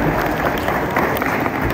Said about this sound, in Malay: Beri tepukan gemuruh kepada mereka.